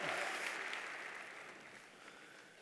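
Applause from a church congregation, a fairly quiet wash of crowd clapping that is strongest at the start and fades steadily over a couple of seconds.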